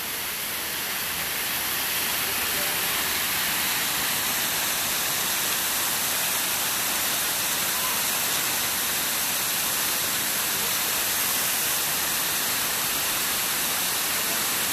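Lawrence Grassi Waterfall at Grassi Lake near Canmore: steady, loud broadband rush of falling water that holds unbroken for the whole stretch, with no voices over it.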